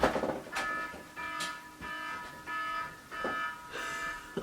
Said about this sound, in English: Right now, there's an alarm going off.